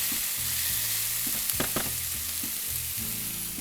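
Onions with ginger and garlic for butter chicken frying in a skillet, a soft, steady sizzle with a few light spoon stirs and taps against the pan, fairly quiet and without talk.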